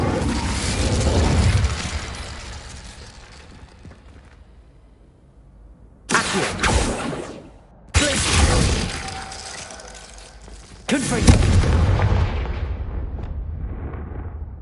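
Incendio, the fire spell in the video game Hogwarts Legacy, is cast in repeated bursts. Each is a loud, booming whoosh of flame with roaring blasts that fade out, separated by short quieter gaps.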